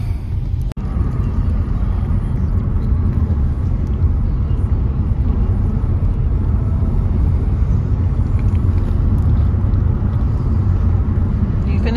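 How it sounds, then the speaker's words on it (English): A car on a road in the Lake District countryside, a steady low rumble running close by and fairly loud throughout, with a brief dip near the start and possible voices underneath. "oh sorry, it's a car"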